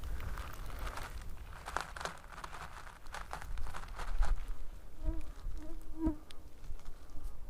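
Biting insects buzz close around a listener on a beach, a steady, fairly faint droning whine with passing swells and a few soft crinkles and taps.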